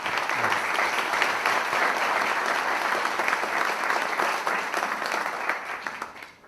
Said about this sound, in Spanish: por favor pido que lo recibamos con un fuerte aplauso